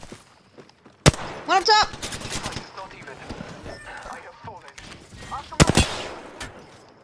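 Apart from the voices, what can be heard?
gunfire in Apex Legends video game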